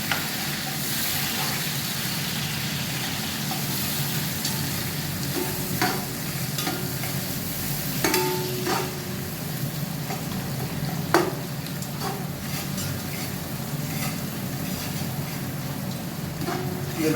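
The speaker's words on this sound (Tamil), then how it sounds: "இதை நல்லா கிண்டி விடுங்க" Onions fry in a pot for mutton biryani with a continuous sizzle, broken by repeated scraping stirs of a spoon at irregular intervals, close and moderately loud throughout.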